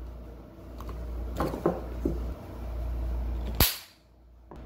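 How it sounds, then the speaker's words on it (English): A charged run or start capacitor is shorted across its two terminals with an insulated screwdriver, giving a few small crackling snaps and then one sharp, loud pop like a little firecracker, close up over a steady low hum. "you're going to touch the two terminals and it's going to do like a little firecracker showing you that this is holding a charge"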